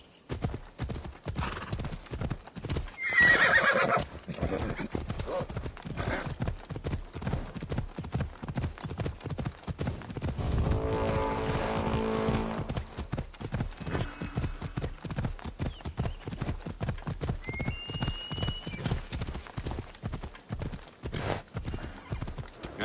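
Horse hooves galloping in a rapid, steady clip-clop rhythm throughout in the Assassin's Creed Odyssey video game, with a loud neigh near the start and another whinny partway through, close and prominent.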